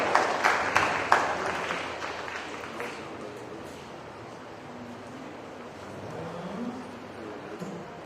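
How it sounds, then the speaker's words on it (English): Audience applause at a cattle show, a burst of clapping in the first few seconds that quickly thins and fades into a windy, murmuring open-air background. "Give them a big round of applause."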